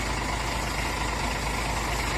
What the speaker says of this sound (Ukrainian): А це наша машина ще одна приїхала.